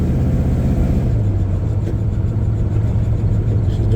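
A Chevrolet squarebody pickup's engine rumbles steadily while the truck is driven, a close, continuous low drone with a slight rise in revs partway through and no talking.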